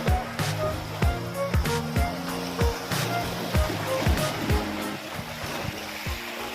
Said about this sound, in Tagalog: malakas ang alon